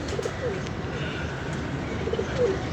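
Soft, low coos of Sabz Chini pigeons come and go over a hushed outdoor background, a few short calls near the start and end.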